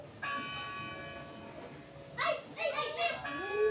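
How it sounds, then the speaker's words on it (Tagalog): A single bell rings with a clear, sustained tone that fades out, and then children's voices chatter over it. "Okay, that is bell."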